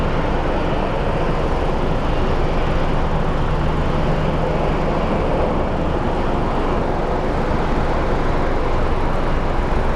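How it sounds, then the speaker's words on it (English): A Southwest airliner landing at Phoenix Sky Harbor airport gives a steady, loud, broadband roar that lasts throughout, with no voices over it. "That was a really soft landing by the Southwest here."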